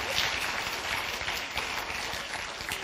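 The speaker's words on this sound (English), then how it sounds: "if we clap loud enough" A church congregation claps loudly during a service, a dense, continuous wash of many hands filling the room with no break.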